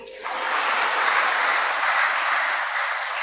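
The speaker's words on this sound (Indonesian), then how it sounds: "Tepuk tangan juga untuk anggota KOR." Applause for the choir at a Catholic Corpus Christi communion mass in a church: a sustained wash of clapping from the congregation, steady and fairly loud for the whole stretch after a brief quiet start.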